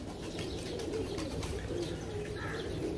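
Pigeon cooing at close range, the soft low coos running steadily under faint chirps in a busy loft, with no talk.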